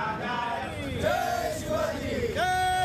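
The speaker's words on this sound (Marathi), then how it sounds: "हिंदू संघटनेचे पदाधिकारी आणि शिवसेनेच्या पदाधिकाऱ्यांनी दुर्गाडी किल्ल्यावर आरती करत जल्लोष साजरा केला" Hindu group and Shiv Sena members celebrating at Durgadi Fort in Kalyan during an aarti, a crowd raising loud cheers and chants that rise and fall over a dense background of voices.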